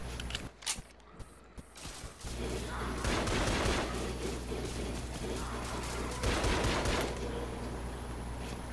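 Gunfire in a Roblox zombie shooter: a few scattered clicks and shots give way to sustained rapid bursts of automatic fire, loud and dense, with a brief lull before another heavy volley.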